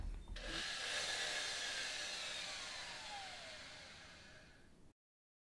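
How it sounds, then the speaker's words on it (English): A drill bores into the wooden arm of a Windsor chair, a steady whining drive with a slowly falling pitch that runs for several seconds before stopping abruptly. "Now we can start the drilling."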